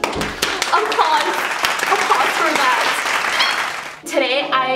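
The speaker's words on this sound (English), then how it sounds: "applause." Burst of dense applause and cheering at full loudness for about four seconds, cutting off abruptly as a voice begins speaking.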